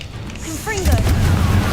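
A Confringo blasting spell in Hogwarts Legacy lands with a deep, rumbling explosion that swells and lingers, right after a brief spoken call.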